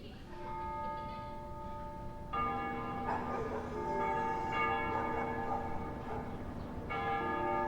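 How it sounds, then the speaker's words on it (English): Church bells ring at dusk to mark the liberation of a capital in the Ace Combat game, sustained ringing tones swelling with repeated strikes, fairly distant and soft, with no talk. "They ring the bells here at dusk to honor the liberation of the capital."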